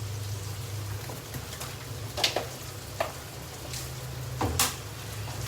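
Beef frying in oil in a pan gives a steady low sizzle, with a few sharp scraping or clattering hits from utensils scattered through it and no talking.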